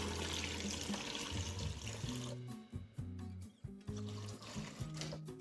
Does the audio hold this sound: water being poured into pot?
yes